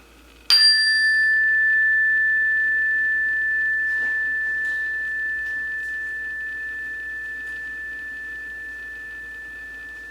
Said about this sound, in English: I'm going to go ahead and ring the bell